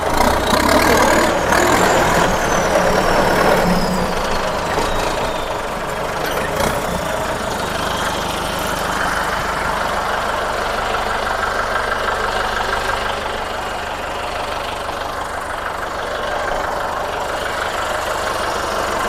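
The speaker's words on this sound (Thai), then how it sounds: "มาดูเครื่องยนต์ครับตัวนี้" A used Kubota or Iseki walk-behind diesel tractor engine idles with a steady low rumble and chugging throughout, close by and unchanging.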